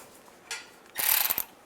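A ratchet snugs down a bolt holding a bracket on the rear main seal cover of a 2007-2013 Chevy Silverado, a brief burst of close, rapid clicking following a single softer click.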